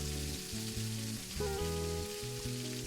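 A beef pot roast sears in a layer of fat, crackling steadily up close, with a brief clatter and shift midway as the meat is turned over and the sizzle carries on.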